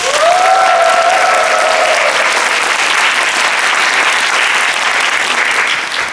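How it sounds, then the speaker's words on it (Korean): Big, loud applause from a university lecture-event audience opening the session, a dense continuous wash of clapping close and full for about six seconds, with a brief voice or tone near the start. "여러분의 큰 박수로 문을 열도록 하겠습니다."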